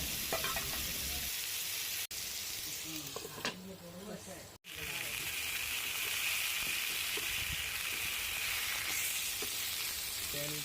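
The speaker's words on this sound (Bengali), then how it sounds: "মাছগুলি খুব ভালো করে উল্টিয়ে পাল্টিয়ে ভেজে আমি প্যান থেকে নামিয়ে ফেলবো এবং একই প্যানে আলুগুলিকে ভালো করে ভেজে নেব" Potatoes frying in oil in the same pan just used for snakehead fish give a loud, steady sizzle with a couple of brief breaks, heard close and continuous.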